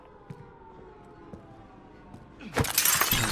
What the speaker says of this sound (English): gonna break glass so I can jump out when we need to